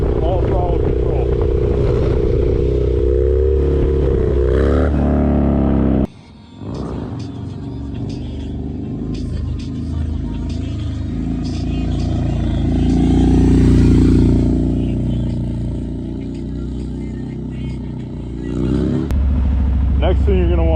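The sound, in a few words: Harley-Davidson Dyna motorcycle revving during stand-up wheelie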